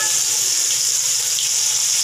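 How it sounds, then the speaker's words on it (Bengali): Onions sizzle in hot oil, a bright, steady crackling hiss close by with no talking, frying toward light brown for a fish recipe. "তো দেখো এবার পেঁয়াজগুলো দেবো তেলে"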